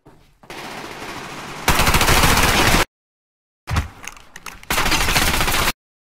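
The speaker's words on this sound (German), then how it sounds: "Ey, diese scheiß Pumpgun." Loud, harsh pump shotgun fire from the Survarium shooter game comes in two dense blasting stretches separated by dead silence, with brief rattling between them.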